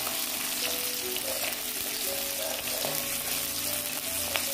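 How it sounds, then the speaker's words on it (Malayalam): Dried red chillies fry in oil for a roasted chutney, giving a steady, close hiss and sizzle throughout. "മുളക് നന്നായിട്ട് മൂക്കണം."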